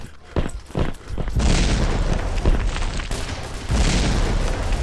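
Repeated heavy booms and rumbling blasts from an airstrike in the first-person shooter Red Crucible: Firestorm, loud and dense, with sustained roaring bursts filling most of the span.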